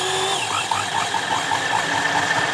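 A sewing machine runs steadily up close, stitching a picot edge on a saree, its motor whirring with a fast, regular stitching rhythm throughout.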